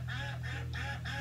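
Cartoon ducks quack and honk four times in a quick, even rhythm, fairly faint over a low steady hum.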